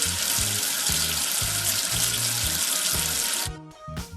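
Running water rinses soap off in a preschool number-tracing video game: a loud, steady rush of tap water like a filling sink pours continuously with a light musical backing, then cuts off abruptly near the end.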